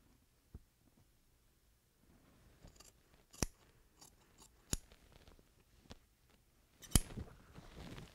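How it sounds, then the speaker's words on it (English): Scissors snip through slipcover fabric for a Parsons chair, sounding as a handful of sharp, irregularly spaced clicks close by against a quiet background with faint handling noise. "just cut this open"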